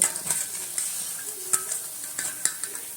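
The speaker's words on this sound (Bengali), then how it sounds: "এই রকমভাবে বাকি বড়াগুলো একই তেলের মধ্যে আমি ভেজে নেব" Drumstick leaf fritters (sajne patar bora) fry in hot oil with a continuous crackling sizzle and scattered sharp pops and spatters close by, with no talking.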